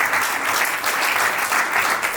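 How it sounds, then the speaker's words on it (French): A crowd at a civil wedding ceremony claps loudly and steadily, a dense, continuous round of applause close by. "On applaudit pour elle."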